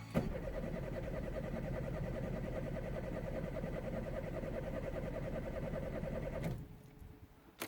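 A car engine cranks steadily and repeatedly without catching, a loud, continuous churning that runs for several seconds before stopping abruptly, leaving a quiet tail.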